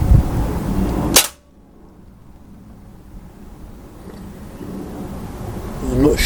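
A single sharp crack from a Beeman 1357 air rifle firing a pellet, loud and close, quickly dying into quiet background with faint rustle.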